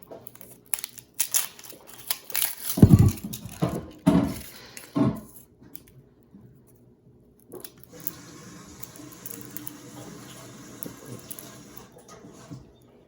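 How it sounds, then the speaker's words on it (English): Papery skin being peeled from an onion gives a few loud, close crinkling and crackling bursts, followed by a steady stream of running tap water in a sink. "get the other onion and go ahead and peel the skin"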